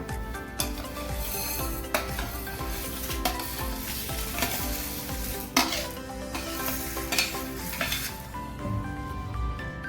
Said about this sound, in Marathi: आता आपण गॅसची फ्लेम मंद करूया आणि हे भाजलेले सर्व जिन्नस मिक्स करून घेऊया